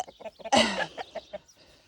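Hens and roosters cluck in short, close bursts, with one louder, harsher squawk in the middle of the series.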